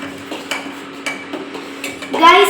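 A spoon stirs turmeric powder into ginger tea boiling in a pot, clinking against the sides in a few sharp, irregular taps over a quiet simmer, with a voice briefly starting at the end.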